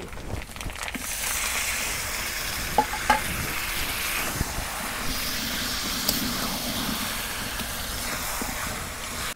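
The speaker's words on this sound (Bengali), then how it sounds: "এখন বাগার দিয়ে দিই" Hot oil tempering (baghar) sizzles steadily in a pot of beef curry, a continuous frying hiss with a few sharp clinks and stirring knocks partway through.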